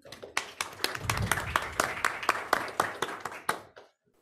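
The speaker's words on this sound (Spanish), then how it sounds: "Para ambos prestigiosos profesores les pido un fuerte voto de aplausos." An audience applauds two professors with a burst of distinct, fairly close hand claps that swell quickly and carry on at a brisk, uneven pace, then fade out to quiet near the end.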